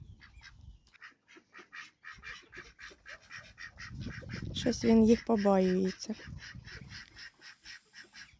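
Ducks quack in a steady rapid stream of small calls, with a louder honking squawk in the middle while a person speaks nearby.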